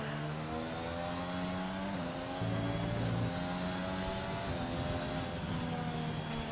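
A Red Bull Formula 1 car in a racing video game at the Hungarian circuit, its high engine note climbing and shifting through gears under acceleration, steady and loud throughout with no talk.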